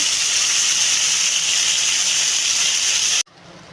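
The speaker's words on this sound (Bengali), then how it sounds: "এই উস্তাটা আগে আমি তেলে ভেজে তুলে নেব" Cut bitter gourd fries in hot oil with a steady, loud, close hiss that holds without a break for about three seconds, then stops abruptly.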